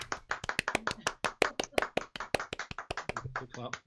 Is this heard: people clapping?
yes